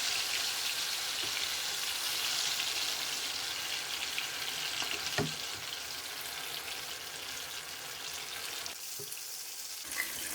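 Marinated chicken pieces fry in lightly heated oil over a low-to-medium flame, giving a continuous close sizzle broken by a few dull knocks of the pan or utensil, with no talking.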